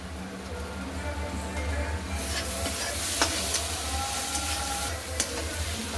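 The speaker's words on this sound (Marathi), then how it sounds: "आता आपण या कांद्याला 1-2-3 मिनिटं परतून घेऊ।" Onions sauté in a pan with red chili powder, giving a steady close sizzle and frying hiss with repeated scraping stirs, a soft voice faintly under it.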